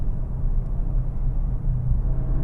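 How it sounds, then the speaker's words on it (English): A 2025 Audi S3 Sportback on the road gives a steady low exhaust drone and rumble, heard from inside the cabin throughout with no talk. "the exhaust does make a fairly decent noise, but I would want a bit more drama"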